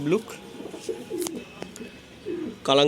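A Kalanka Ablook pigeon in a home loft gives soft, repeated throaty coos at close range, a few short phrases spread across the moment, with someone talking alongside.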